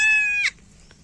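A goat bleats once, a loud, close, wavering call lasting about half a second. It ends abruptly, leaving quiet farmyard background with no talk.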